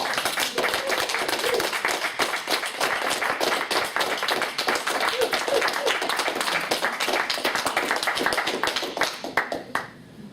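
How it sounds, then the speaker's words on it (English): Audience applause after a talk on healing through compassionate awareness, a dense wash of clapping from a small crowd lasting about ten seconds before tapering off, with a few voices mixed in. "So let's give him a round of applause."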